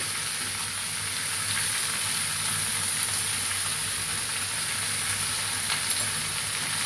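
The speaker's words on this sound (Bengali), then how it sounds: "কুমড়ো আর আলু দিয়ে ভালো করে কষা করতে হবে।" Potatoes and pumpkin sizzle in hot oil in a pan for a Bengali crab curry, a loud, continuous frying hiss held steady and close throughout with only faint clinks.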